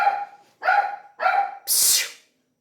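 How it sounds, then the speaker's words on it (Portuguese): A small female dog in heat barks three times in quick succession, close and loud, then lets out a higher, drawn-out yelp, with no speech over it. "Minha cachorrinha, ela tá no cio e ela fica assim."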